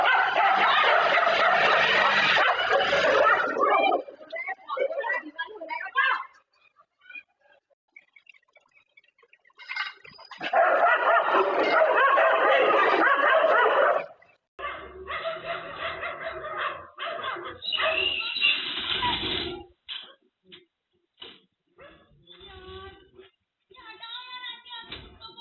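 Stray dogs in a residential colony bark loudly in several long bursts separated by quieter gaps, up close and harsh, with a few yips toward the end.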